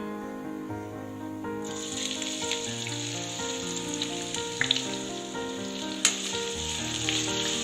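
Long-sliced large onions sautéing in hot oil for an egg gravy, a steady soft sizzle with occasional sharper pops, heard beneath sustained background music.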